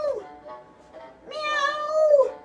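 A person imitates a cat, voicing a short meow and then a longer, rising, drawn-out meow, close and clear with no other sounds.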